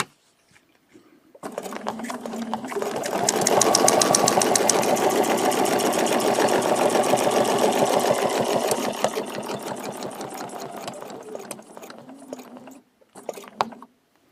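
A sewing machine quilting a feather leaf design along a template, running steadily and rapidly for about twelve seconds after a brief start, then stopping with a few short bursts at the end.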